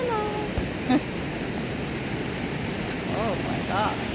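Snowmelt water rushes rapidly through a Colorado state park, a steady broadband roar that runs throughout, with a few faint voices and brief bird-like chirps over it.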